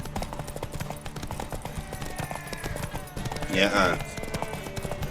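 Horse hooves gallop in a steady rapid rhythm during a race in The Witcher 3, layered with game sounds and a brief spoken reply, with a louder burst of activity near the end.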